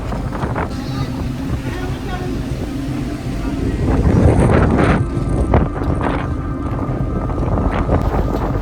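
Strong storm wind from a sudden windstorm that has uprooted a mango tree: gusty wind buffets the microphone with a rough roar that swells louder midway and stays strong, and a voice talks over it.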